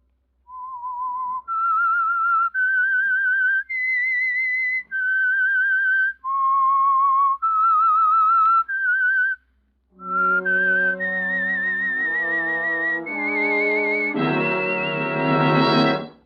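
Someone whistles a slow, clear melody of sustained notes as the opening of a 1946 radio drama, then a brass-and-strings style musical passage swells in after a brief pause.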